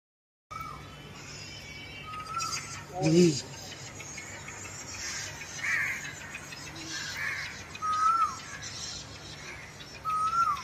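Birds calling in a zoo aviary at Rani Baug in Mumbai: scattered chirps and a louder harsh caw-like call rise over a steady outdoor hum.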